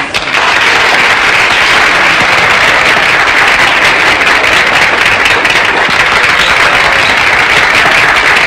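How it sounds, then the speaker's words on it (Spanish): Dense, sustained applause from a large crowd at a live bolero performance, loud and steady throughout with no voices standing out. "Vamos a darle un aplauso más fuerte para que nos cante."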